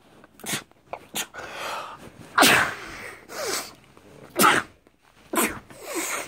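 A person sneezes repeatedly in a short burst series, five or six sharp sneezes spaced about a second apart, close and fairly loud with quiet gaps between them.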